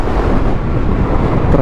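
Loud, rumbling headwind buffeting the microphone while riding an Aprilia SR GT 200 scooter, a constant roar like rushing air while moving fast.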